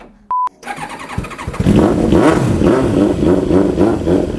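A Kawasaki ZX-7R or Suzuki SRAD sport motorcycle cranks with a short electronic beep, then catches and settles into a rough, loud idle with repeated throaty revs, close by.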